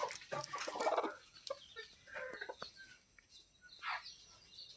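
A free-range village hen clucks softly in short, irregular bursts, fairly close, with a few faint rustles and distant bird calls in the quiet background.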